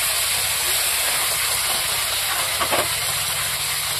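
Onion paste and green chilli paste sizzle in hot oil for a fish curry, a constant loud steamy hiss with a faint brief scrape partway through.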